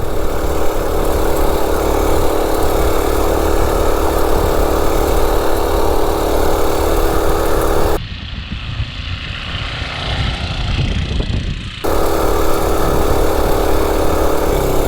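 Gas-powered mini bike engine running on diesel fuel, a steady loud buzzing drone that holds for most of the stretch, dipping briefly into rushing wind noise before the engine note returns.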